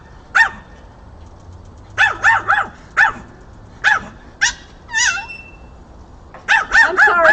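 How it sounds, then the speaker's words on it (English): A nervous dog near a squeaking Blackstone griddle barks sharply and repeatedly at close range, in single barks and quick clusters, with a short whining yelp in between. "My dog's going to freak out because the squeaking makes him very nervous."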